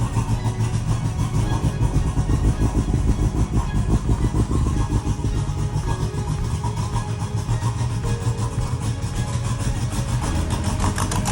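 A turbocharged Honda car engine runs in a steady, rough idle while blowing thick smoke, with a throbbing rhythmic pulse, loud and close, continuing without pause.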